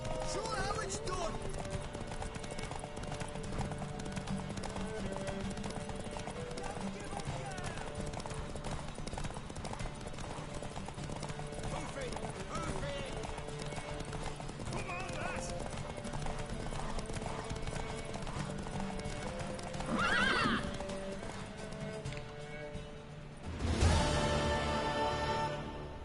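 Horse hooves clip-clop in a steady galloping rhythm in The Witcher 3, with a loud neigh and whinny near the end, all under game music and voices talking.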